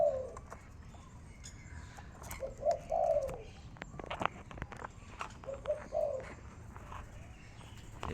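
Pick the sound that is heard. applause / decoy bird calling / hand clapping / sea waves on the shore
decoy bird calling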